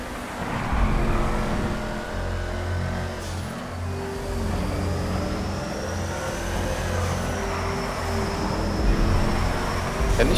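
A car engine drones steadily while driving in GTA Online, holding a continuous mid-level hum with slight pitch shifts as it cruises, no distinct gear changes, loud and close throughout.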